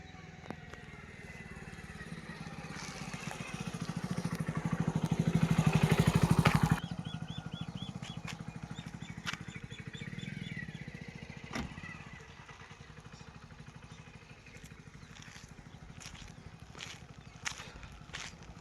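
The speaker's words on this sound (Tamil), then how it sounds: "இந்த பைக் வருதுங்களா" A motorbike passes by on a rural dry-land plot, its engine rising to a peak around the middle and then fading away, fairly distant among outdoor background noise.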